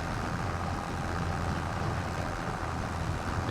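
A steady, heavy diesel engine drone from an underpowered tractor in Farming Simulator 25, loud and unbroken from start to finish, with no voices.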